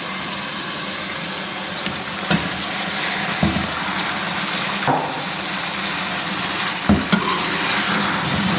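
Chicken pieces go into a spiced masala for Bombay dum biryani and get stirred, giving a steady loud sizzle with several scraping knocks of the spoon against the pot.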